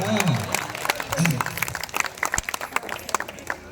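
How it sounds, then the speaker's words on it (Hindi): Scattered audience clapping at a Hindi poetry gathering in Nawada, uneven bursts of hands with distinct sharp claps, mixed with someone speaking over the crowd throughout. "आप इनके लिए ताली बजाइए महाराज।"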